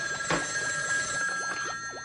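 A telephone bell rings in a brief steady trill over background noise, heard in a comedic haunted-house show.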